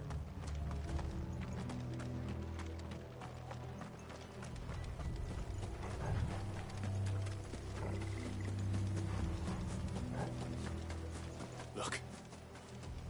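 Horse hooves clip-clopping in Final Fantasy 16, a steady rhythmic patter of several horses moving over ground with rattling, mechanical clatter and occasional whinnies, continuing throughout under a low rumbling bed and bits of talk.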